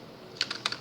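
Typing on a computer keyboard, with a few crisp keystrokes clicking close by in quick succession over a quiet background.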